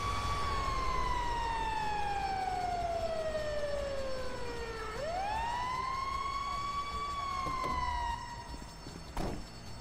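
A fire truck siren in GTA 5 wails steadily, sweeping down and then back up in long loud glides with a harsh harmonic edge, while a vehicle rumbles underneath and a brief thump lands near the end.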